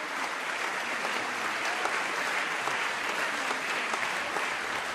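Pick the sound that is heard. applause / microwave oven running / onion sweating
applause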